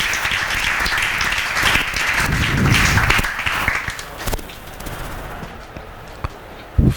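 Students in a classroom clap together in a dense, sustained burst that peaks in the middle and then thins out into scattered claps.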